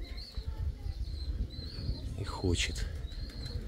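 Pigeons coo and flap their wings close by in hot weather, soft calls and bursts of wing beats sounding under someone talking.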